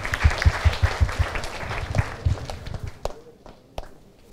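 Audience applause at a university learning festival in Surat, a burst of clapping with some distinct beats that thins out and fades after a few seconds.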